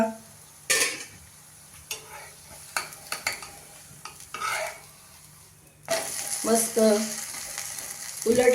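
Ragi and sweet corn thalipeeth cooking on a pan, quiet sizzling with scattered metal clinks and scrapes as it is lifted and flipped, then a louder burst of frying afterwards.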